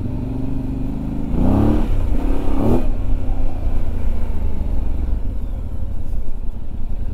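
A 2025 Voge DS800X Rally adventure motorcycle engine gives two loud, close rev blips that rise and fall, then settles into a steady running drone.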